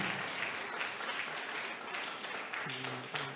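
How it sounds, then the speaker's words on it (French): A church congregation applauds, a steady wash of many hands clapping throughout, with a faint sustained tone entering near the end. "On applaudit Jésus une deuxième fois encore."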